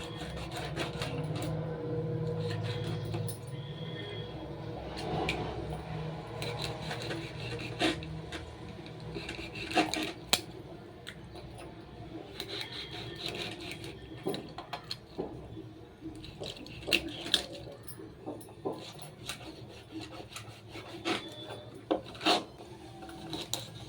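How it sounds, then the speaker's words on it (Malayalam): Knife cutting oily fish into pieces for a fish curry, soft close chopping and scraping with scattered taps and knocks on the board over low background noise. "ഇതൊന്ന് കട്ട് ചെയ്തെടുക്കാവേ."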